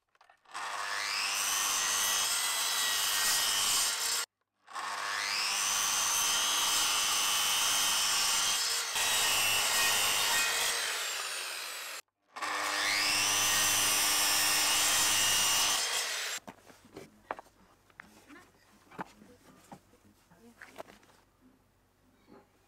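A power saw cutting wooden boards outdoors: three long, loud whining cuts separated by brief pauses, then quieter clattering and handling of the wood, with no voices.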